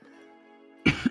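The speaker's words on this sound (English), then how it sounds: "You are allowed to cough, sir." A faint steady tone hums, then a sharp cough bursts out near the end, followed by a smaller second cough.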